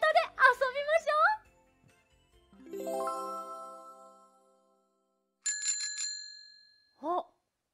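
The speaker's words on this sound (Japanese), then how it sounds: "何か乗り物の音が聞こえてきたね。 みんな、わかる？ そう、自転車だね。" A bicycle bell rings in a short bright burst of repeated dings, following children's singing and a rising sung tone, then a brief voice at the end.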